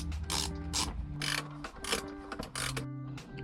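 A T30 Torx bit works loose the airbag bolts behind a BMW E30 steering wheel, giving a steady run of close ratcheting, mechanical clicks in several bursts, with no talk over it.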